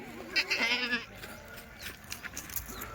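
Kathiawadi dairy goat gives one loud, wavering bleat up close, followed by quieter farmyard rustling and faint background noise.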